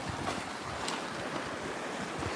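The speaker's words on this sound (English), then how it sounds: "The tides here come in and out pretty quick, so I'm keeping an eye on the water." Tide waves break and wash steadily along a shore beneath a cliff, a continuous close rush of surf mixed with gusting wind on the microphone, and no voices.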